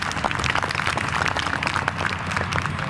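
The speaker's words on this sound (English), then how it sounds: "we just like to have a round of applause for Nadine" A round of applause at a workplace retirement event, a steady patter of many hands clapping from a moderate distance, fairly quiet and even throughout.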